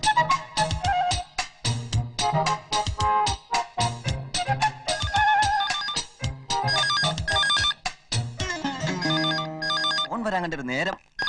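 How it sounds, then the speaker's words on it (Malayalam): A telephone rings with a bright electronic melody, its tones repeating in quick bursts for the whole stretch, loud and close in a Malayalam comedy film scene. "ഫോൺ വരാൻ കണ്ടൊരു നേരം"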